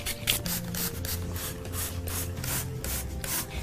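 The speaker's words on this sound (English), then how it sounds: "We're just gonna spray," A spray bottle mists rubbing alcohol onto Sharpie-decorated white shoes, giving a rapid run of short, hissing spritzes in a steady rhythm, close up and with no talking.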